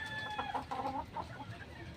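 Roosters and fighting chickens cluck and squawk in quick, agitated bursts, close and moderately loud over a faint farmyard background.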